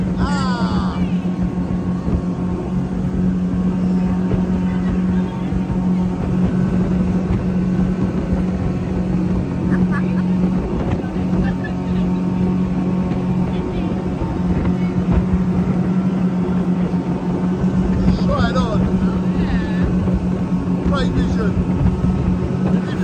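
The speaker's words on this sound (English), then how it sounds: "We've been doing 200 miles an hour on a boat." A speedboat runs at high speed off Paradise Island in the Bahamas, its engine droning steadily throughout, with faint voices at moments over the constant roar.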